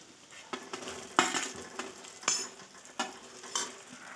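Finely chopped val bean pods sizzle with onion and masala in a pan, a quiet frying hiss punctuated by about half a dozen sharp spoon-scraping stirs at uneven intervals, close and without talk.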